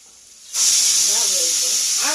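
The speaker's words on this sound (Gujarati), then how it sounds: "આ કુકરમાં 2 સીટીઓ મારી છે" A pressure cooker on a home stove releases a sudden loud, steady jet of hissing steam that starts abruptly and keeps going, with a faint voice murmuring underneath.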